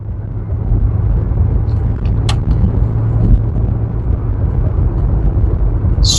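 A 1979 Chrysler New Yorker 5th Avenue with 29,000 miles cruises on a test drive, its steady low engine and road rumble droning evenly from the cabin, with a few faint ticks and a brief high chirp.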